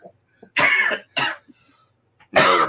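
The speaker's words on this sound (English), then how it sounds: "I do apologise for the coughing." A person coughs in three sharp, loud bursts separated by short pauses, with a small throat sound between them and no speech.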